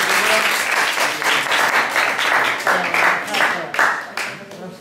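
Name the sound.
applause at auction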